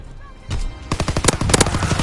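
Close, rapid gunfire from Call of Duty: World at War, a fast rattle of machine-gun shots following a short rumble, loud and dense with no talk.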